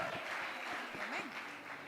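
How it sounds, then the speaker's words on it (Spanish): A church congregation applauds during an evening worship service, steady clapping filling the room while a voice speaks or calls out over it. "Bríndale un buen aplauso al Señor"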